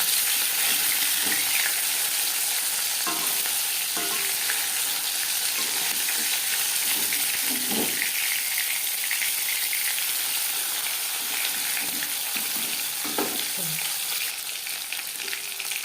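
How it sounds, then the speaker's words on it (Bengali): Tilapia fish frying in hot oil in a pan crackles with a loud, steady sizzle throughout, broken by occasional soft clicks and stirring knocks, with no talking. "একটা সাইড ভাজা হয়ে গেলে অপর সাইডটা উল্টে দেবো"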